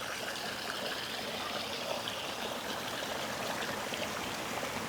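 A natural mountain stream in a valley in Laos rushes steadily and close, a dense, unbroken wash of flowing water with no voices.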